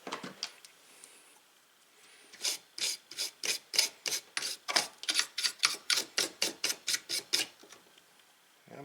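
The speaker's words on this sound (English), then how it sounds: "So go ahead and just shoot on there and scrub it down probably. With a toothbrush I've got lying around here." A toothbrush rapidly scrubs a contact-cleaner-sprayed part of a 1960s Philco F-226 tube radio, giving a series of about twenty close, quick rasping strokes in a steady back-and-forth rhythm.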